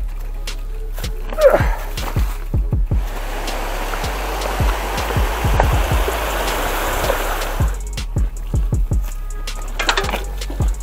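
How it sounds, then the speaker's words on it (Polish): A forest stream flows near rocks on a mountain bike trail, with a steady broadband rush of water and scattered sharp clicks and knocks over it, fairly close. "Potok se płynie zwolna."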